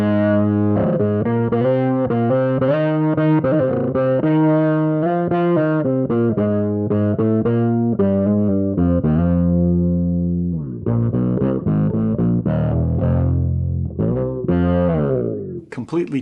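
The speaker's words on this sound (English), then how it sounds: "really brings you into that world of synth bass" Electric bass turned into a thick synth bass by a Fractal Axe-FX processor, playing a steady riff of sustained, harmonically rich notes, loud and continuous, with no talking.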